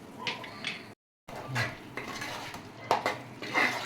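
A utensil stirs Kashmiri chilli powder into a pot of Godavari-style fish curry, clinking and scraping against the pan in uneven bursts, with a brief silent gap partway through and no voices.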